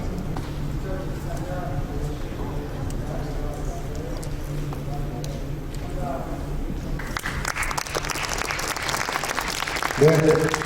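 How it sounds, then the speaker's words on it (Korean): Talk and ambient noise at the opening ceremony of a national yoga competition give way to a burst of applause partway through, clapping continuing steadily to the end. "큰 박수 부탁드리겠습니다"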